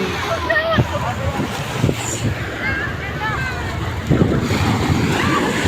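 Strong sea waves washing onto a beach at San Juan, Batangas, a continuous rushing surge with gusts of wind buffeting the microphone and occasional swells rising louder.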